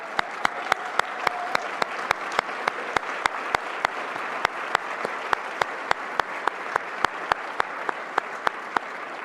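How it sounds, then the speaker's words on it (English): A Toronto audience at a federal budget event applauds public servants, a continuous bed of many hands clapping, with one very near, sharp clap repeating in a steady, even beat throughout. "Why don't you stand up and we can give you a round of applause to say thank you for your service."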